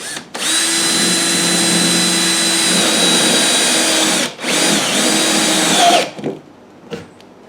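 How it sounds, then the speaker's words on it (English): A power drill with a step bit whines steadily for several seconds, with a brief dip mid-run, then winds down and stops, followed by a few small clicks. "So all you got to do is drill you a hole."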